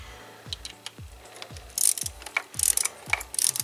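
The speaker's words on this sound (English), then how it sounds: "I always like using the torque wrench, because otherwise you might still have a leak if you don't get them too tight" A ratcheting torque wrench clicks rapidly in a steady rhythm while tightening valve cover bolts on a BMW E46 engine, close and distinct, with a few sharper metallic snaps as the wrench reaches torque.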